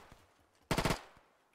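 A short machine-gun burst rips out in an Arma 3 World War II winter battle, roughly four rapid shots fired close by, then fading into quiet ambience.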